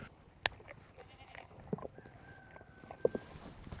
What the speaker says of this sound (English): So I have a favorite goat over here.